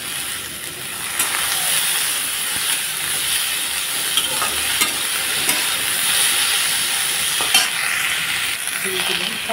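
Chopped tomato dropped into hot oil with cumin, ginger, asafoetida and boiled potatoes for chana dal, giving a steady close sizzle and hiss with occasional stirring scrapes, alone without talk.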